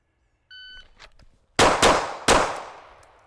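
A pistol is fired at steel targets in a drill of two shots to the body and one to the head. A faint electronic beep is followed by three loud, sharp shots, and each impact rings out with a metallic clang and decay.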